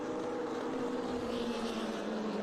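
Race cars at a vintage race day roll past a few meters away, a steady ear-filling engine drone with a sustained mid-pitched tone, loud and close without any talking.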